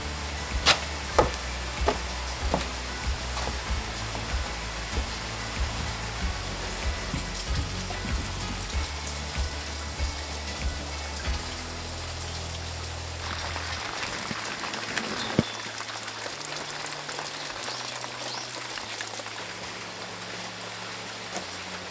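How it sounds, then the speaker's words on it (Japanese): Heavy rain pours steadily outside a run-down abandoned building under renovation, a dense continuous hiss with scattered sharper drips and knocks standing out over the whole stretch, no talk. "雨がかなりひどくなってきました。"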